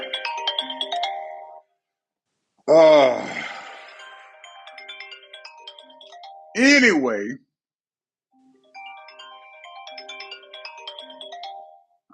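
A mobile phone plays its ringtone for incoming calls as a repeating electronic melody in several separate bursts, interrupted by someone speaking.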